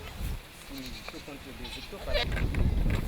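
Goats on a farm in Kivu bleat in short wavering calls at moderate distance, mixed with people talking and rising background rumble toward the end.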